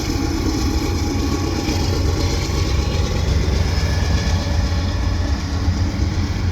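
A CPKC AC4400CW diesel locomotive hauls a double-stack and mixed freight train past at close range, with a loud, steady rumble of engine and rolling cars and a faint clickety-clack throughout.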